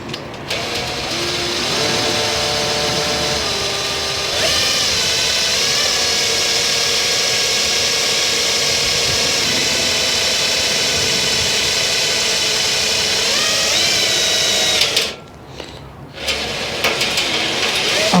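A power drill drilling out a rivet on a compost spreader, a loud, steady whining drone that runs continuously for most of the time, pauses briefly, then starts again.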